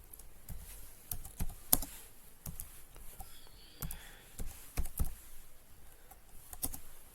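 Scattered keystrokes on a computer keyboard while text is entered in Microsoft Word, quiet irregular taps and clicks at close range with brief pauses between bursts, no voices.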